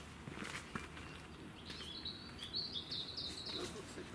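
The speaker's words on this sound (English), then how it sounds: "Birds in it." Small birds chirp faintly outdoors at a historic hall, thin bright calls weaving through soft background noise in the middle of the clip, with quiet voices nearby.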